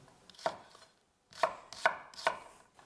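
An onion is chopped on a board: one knife strike, a pause, then three more evenly spaced, crisp close-up chops with no voices.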